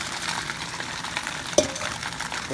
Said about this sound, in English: Now we put the banana leaves on the pan, and we're gonna transfer the sweet rice here.